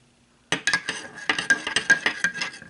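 A spoon stirs a flavored protein drink, quick clinking taps against the glass in a fast, uneven rhythm that starts abruptly after a short silence and stays close.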